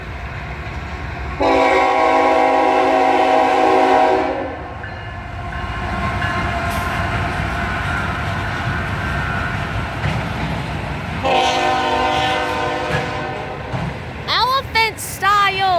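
A short freight manifest train passes with its K5HL horn sounding two long, loud chords, wheels and engine rumbling steadily between blasts, while people talk nearby.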